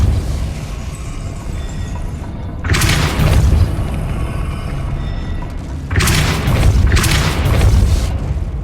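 The Depulso force spell goes off in Hogwarts Legacy, making two heavy booming blasts, one at about three seconds and one later that rumbles on, over a constant low game ambience.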